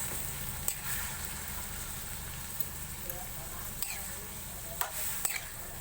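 Fresh squid sizzling and spattering in a hot frying pan, a steady close crackle with occasional sharper pops, no talk over it.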